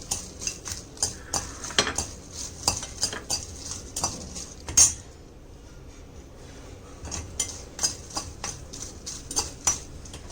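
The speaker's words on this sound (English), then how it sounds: "I am taking 4 Kashmiri red chilies, which I will dry roast it for few seconds." Kashmiri red chilies dry roast in a pan, with a brisk series of close metallic scrapes and clinks from stirring, a short pause midway, then more rhythmic scraping.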